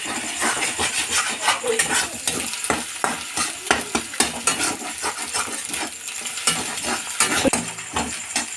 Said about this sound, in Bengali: তিনটে ডিম দিয়ে কড়াইতে ভালো করে নেড়ে চেড়ে ডিমগুলো তুই ছোটো ছোটো করে নিচ্ছি